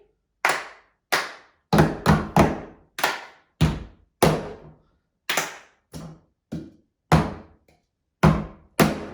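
A cup rhythm game of claps, grabs, taps and table bangs gives crisp, hollow hits with short pauses between them. The pattern repeats at a steady tempo, close and clear, with no talking.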